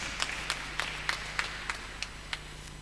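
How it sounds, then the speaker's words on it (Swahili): A church congregation claps in a slow, steady rhythm, each clap evenly spaced and distinct, heard faint and somewhat distant over a low background hum. "Tuwapigie makofi jameni."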